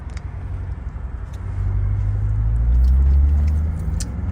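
A Corvette engine rumbles low and close, its drone rising and swelling midway as the car pulls away, with faint clicks and rattles from inside the cabin.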